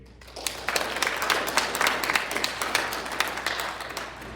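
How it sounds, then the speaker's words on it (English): An audience applauds, many hands clapping in a brisk, uneven patter that holds steady throughout, with no speech. "Please clap your hands for Mr. Doug Roach"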